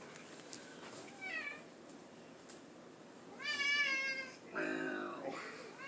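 Stubby, a stub-tailed house cat, gives several drawn-out meows near the end, close and clear, after a softer chirp earlier; a person's voice is faint in the background.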